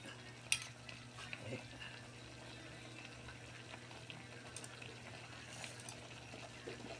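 Food frying in a pan gives a faint, steady sizzle with occasional light clinks and stirring scrapes, quiet and close with no talk.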